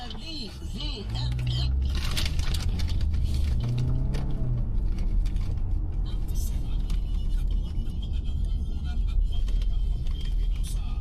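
Cars move through road traffic toward a freeway exit, with continuous engine and tyre rumble from inside a moving vehicle and occasional passing-vehicle swells under background voices.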